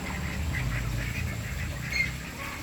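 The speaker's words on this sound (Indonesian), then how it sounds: "Ada juga itik packing 2 ekor yaitu yang berwarna putih" Muscovy ducks, kept on a small farm, give soft, breathy quacks and hisses over a steady background din, with a slightly louder call near the end.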